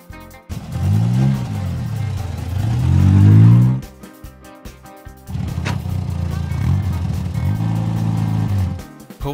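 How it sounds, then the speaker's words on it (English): Cartoon oil tank truck engine revving in two rising and falling surges, a pause, then a steadier droning run, loud and close with no talking. "Oil tank."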